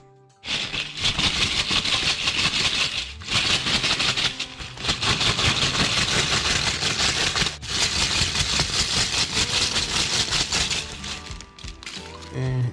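A grinder runs steadily on dehydrated ghost and scorpion peppers, a loud, continuous whirring buzz that starts abruptly, holds with brief dips, and cuts out near the end.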